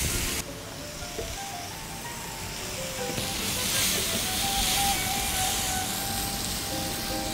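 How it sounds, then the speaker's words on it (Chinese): Wagyu beef searing in a dry pan with no oil, its own fat rendering, a continuous loud hissing sizzle that swells slightly midway and holds steady. "接下来我们把两边的肉再煎上色"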